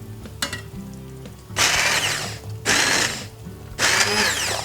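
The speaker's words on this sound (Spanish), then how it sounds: "Y ahora trituramos." Blender puréeing cooked peas and their pods into soup, three loud whirring bursts separated by short pauses, close up.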